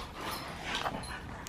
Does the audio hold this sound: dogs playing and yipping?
yes